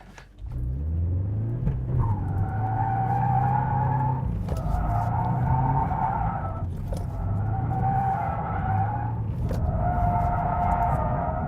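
A drift car slides through repeated transitions on a practice course: a loud, steady engine drone broken by several long tyre squeals, each one holding a few seconds before cutting off and starting again.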